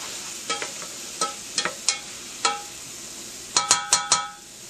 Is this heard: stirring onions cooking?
yes